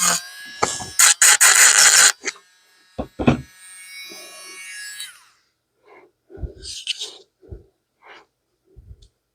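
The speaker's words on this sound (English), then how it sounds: "So I'm just going to sand this to give me a seam." A rotary tool sands a 3D printed part in loud, buzzing bursts during the first two seconds, followed by a shorter grinding touch and then quieter handling noises with scattered voice sounds.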